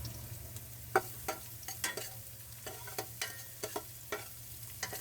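Garlic sautés in a pan for balbacua, a faint frying hiss beneath a low steady hum, punctuated by a dozen sharp spoon scrapes and taps in an uneven rhythm, close but quiet with no voices.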